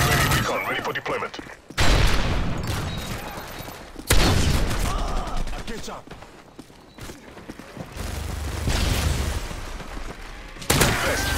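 Heavy automatic gunfire from a minigun in the multiplayer shooter game Call of Duty: Modern Warfare 3. Loud bursts and booms come in repeated waves at close range, mixed with other battle noise.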